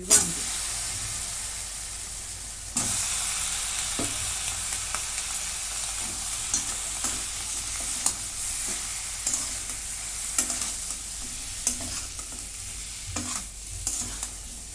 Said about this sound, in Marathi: वांगे जरा परतून घेते या मसाल्यात